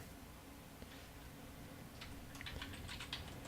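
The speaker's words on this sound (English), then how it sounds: "my typing's so slow and bad right now" Faint bursts of typing on a computer keyboard, quick irregular key taps that cluster toward the end, heard close but quiet over a low steady background hum.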